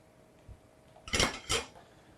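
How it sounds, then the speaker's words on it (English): A metal pan is picked up and set down on a kitchen stove to heat, giving two quick clanks in close succession over quiet room background. "So what I want to do is just heat up a pan"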